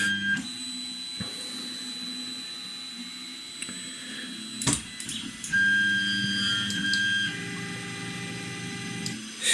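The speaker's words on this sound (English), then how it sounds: "click on the dial and send the nozzle back to its home position" A Creality Ender 3 Pro 3D printer auto-homes its nozzle. Stepper motors whine in shifting tones that start, stop and change pitch as the axes move, with small clicks between moves.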